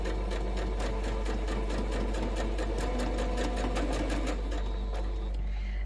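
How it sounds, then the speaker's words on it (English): A sewing machine stitches quilt fabric in a fast, even run of needle clatter, close and clear for several seconds before slowing to a stop. "I'm just going to place my fabric underneath and I'm going to start stitching."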